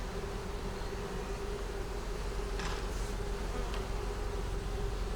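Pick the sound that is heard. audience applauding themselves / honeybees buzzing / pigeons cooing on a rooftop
honeybees buzzing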